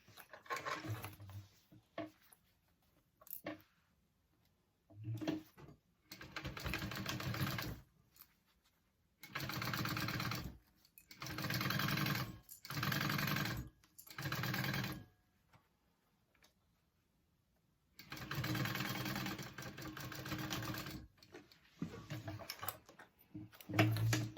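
A sewing machine bastes fabric down to a zipper, stitching in several separate bursts of fast mechanical whirring and clatter, each run a few seconds long with quiet pauses between them.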